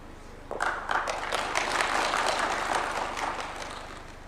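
An audience at State House in Kenya applauds the Chief Justice, with clapping that starts abruptly, swells to a dense roar and then slowly fades.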